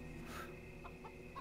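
A chicken in the video game Zeno Clash gives a few soft clucks over a steady hum of game background sound.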